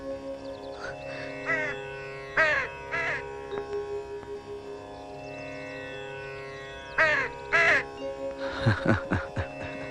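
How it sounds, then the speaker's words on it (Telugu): Crows cawing in short bursts of harsh calls, repeated several times over a steady musical background in a devotional film scene. "ఆ కాకులు కావు కావు నరుస్తున్నాయి కదా"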